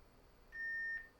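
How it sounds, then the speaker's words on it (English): A Motorola GP340Ex two-way radio gives a single steady electronic beep about half a second long when programming finishes, clear and close in an otherwise quiet room. "The radio will beep when done."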